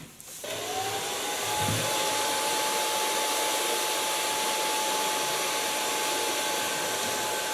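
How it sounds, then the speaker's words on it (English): Steady, loud whooshing roar of a hair dryer switching on and blowing continuously while short pixie-cut hair is finger-dried, close up with a faint whine running through the airflow. "And now I'm gonna blow dry it with the use of my fingers."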